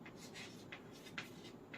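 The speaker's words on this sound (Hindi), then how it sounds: "तो मैं यहाँ पर लिख रही हूँ टाइप्स ऑफ" Marker or chalk strokes on a board during a class lesson on types of friction, a few short scratchy swipes in quick succession over a low room hum, no voice.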